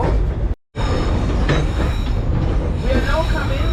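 A scenic railway train on St Kitts runs along its tracks with a loud, continuous rumble and clatter of wheels, with a momentary dropout early on and faint squeals later.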